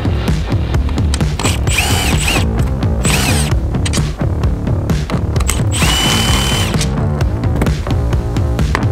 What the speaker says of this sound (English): drill and cut it up